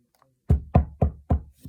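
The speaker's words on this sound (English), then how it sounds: "slowly knocked on the door" Knuckles rap on a door: four firm, evenly spaced knocks followed by a lighter fifth, close and clear with nothing else around them.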